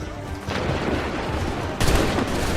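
Musket volleys ring out in the Assassin's Creed 3 video game, a loud sustained fusillade of overlapping gunfire with a sharper burst of shots near the end.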